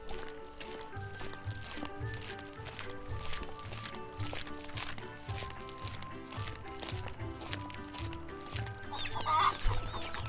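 A farm hen clucks in short, scattered bursts beneath a steady backing melody, with other farmyard noises mixed in.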